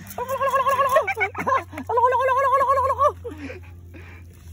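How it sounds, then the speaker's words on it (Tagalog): Turkeys gobble in loud, warbling bursts, two long calls with shorter ones between, over a low steady hum and some background noise. "may pabo dito"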